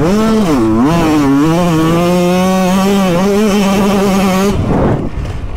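A 125cc motocross bike screams over big jumps, its two-stroke engine revving high and loud with rising and falling pitch as the rider works the throttle, then cutting off abruptly near the end.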